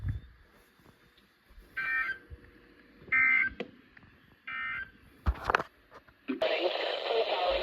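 A National Weather Service weather radio broadcasting a warning alarm test: short repeated electronic tone bursts and data-like buzzes with brief pauses, ending in a louder burst of noisy static.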